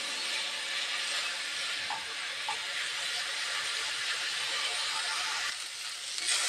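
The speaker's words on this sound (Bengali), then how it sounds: "আমি আলুটা কিছুটা ভেজে নিব।" Raw potato pieces fry in a pan, giving a steady, fairly loud sizzling hiss with a couple of faint clicks, and no voices over it.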